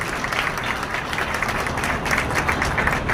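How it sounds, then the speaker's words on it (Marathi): Steady, enthusiastic audience clapping at a ceremony for a Nashik heart hospital, a dense even ovation filling the whole stretch with no talk over it. "त्यांचे एकदा जोरदार टाळ्या बाजून आपण स्वागत करू"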